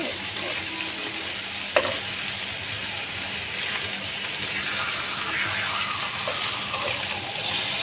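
Kalibaus fish pieces fry lightly in hot oil, giving a steady, close sizzle throughout with one brief clink near the start and a faint low hum underneath.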